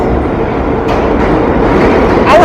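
A train rolls past outdoors with a steady, loud rumble that holds throughout, with a faint wheel squeal rising near the end.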